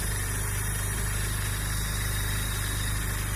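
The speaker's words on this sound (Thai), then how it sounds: "เครื่องแห้งมากนะครับ ฟังได้จากเสียงนะครับ" A 2002 Ford Laser Tierra 1.8 with manual gearbox idles steadily, its engine giving a close, even, continuous hum with a faint rhythmic pulse and no talk over it.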